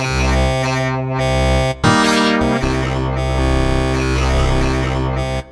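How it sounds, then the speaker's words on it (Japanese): A sustained, dense tone from a KORG modwave synthesizer with layered harmonics and a wash of reverb, briefly cutting out and shifting pitch before resuming loudly. "ちょっとリバーブ。"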